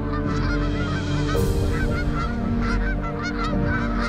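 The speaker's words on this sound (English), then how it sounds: "And look at the geese coming in now." A large flock of wild geese honks continuously as the birds fly in over a wildfowling marsh, a dense, loud chorus of overlapping calls close by and all around.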